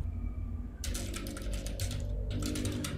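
Computer keyboard typing on a PC while entering text into a blank Word document: after a brief quiet pause, rapid clustered keystrokes click steadily and close, with a short gap before a final burst.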